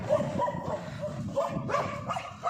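Shaggy, sturdy village dogs in Spiti Valley fight among themselves, letting out a rapid run of overlapping barks, yips and whimpers at close to mid distance.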